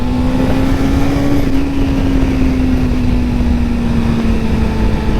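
A steady engine drone with a sustained tone holds throughout, loud and close, riding along on a Suzuki GSX-R600 motorcycle with wind noise.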